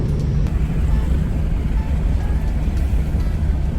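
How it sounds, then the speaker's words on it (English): A freshly rebuilt engine runs during a test drive after a transmission repair, a loud, steady low drone with no talking. "I'm roughly 2 miles into my first real test drive after the engine rebuild"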